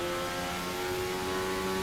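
Race car in an Australian Grand Prix racing game held at full throttle, the engine a steady high-pitched loud whine with no breaks.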